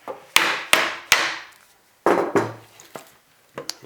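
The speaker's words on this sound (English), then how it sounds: "just going to gently tap on this with the hammer" A hammer taps gently on a resin mold, seven or eight light, sharp knocks in uneven pairs and singles, each ringing briefly before fading, with no talking.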